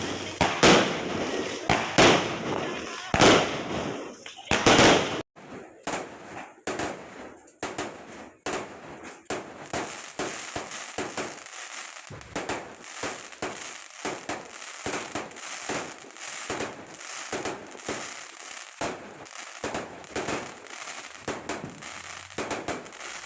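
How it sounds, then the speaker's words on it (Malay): Fireworks and firecrackers go off on Hari Raya eve in a Malaysian village, a rapid run of sharp cracks and bangs at first, then scattered pops and crackles continuing at varying distances. "Dan menyambil juga dengan main bunga api."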